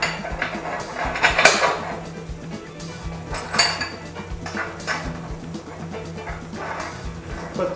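A metal nut is threaded onto a bolt with a washer while assembling a steel welding table, giving scattered metallic clinks and rattles over a low background hum, with a few sharper knocks.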